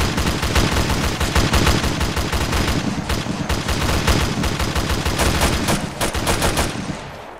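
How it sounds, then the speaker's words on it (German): Sustained bursts of rapid gunfire from a military video game during a convoy mission, loud and continuous with dense automatic volleys and tracer fire, tapering slightly at the end. "Schmeleck von Kahn, kannst du mal auf deiner 9 Uhr Position circa oben an dem Felsen 3-4 Schuss hinsetzen"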